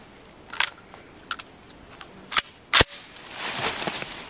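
A TriStar Viper G2 20 gauge semi-automatic shotgun fires cheap Walmart shells that don't always cycle. A few sharp, isolated reports are spread apart, with one loud close crack standing out, then a stretch of rustling.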